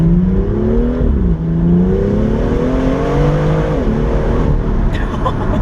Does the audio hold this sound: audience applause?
no